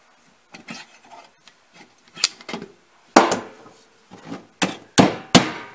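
A hammer taps bent pieces of metal pipe while a rocket stove is being built, producing a series of sharp, irregular metallic knocks and scraping strikes, close and fairly loud, with no talking.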